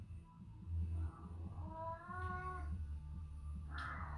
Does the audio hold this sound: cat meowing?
yes